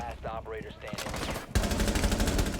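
Rapid automatic gunfire from a rifle in the video game Rainbow Six Siege, a loud sustained burst of dense shots kicking in abruptly after a brief stretch of quieter game sounds and voices.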